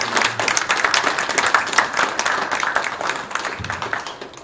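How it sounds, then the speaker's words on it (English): Lively clapping from a town hall audience at an electricians' union meeting, close and somewhat uneven with distinct hand claps, continuing for several seconds. "Give all of them a round of applause for all the work they"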